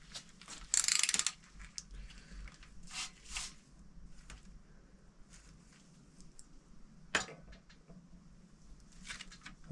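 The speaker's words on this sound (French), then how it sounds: "Alors je m'attaque à la culasse, donc je dévisse. Donc là c'est du Torx 14." Torx 14 cylinder head bolts are loosened on a Peugeot 2.0 HDi 16V engine, with close ratchet clicks, metallic tool knocks and scraping in a few separate bursts over a quiet workshop background.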